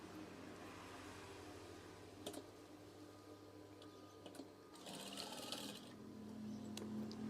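A sewing machine stitches a folded curtain hem for a swag curtain, running in a steady faint mechanical whir with a few clicks and a brief faster burst near the end.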